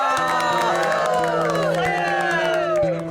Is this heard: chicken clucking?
no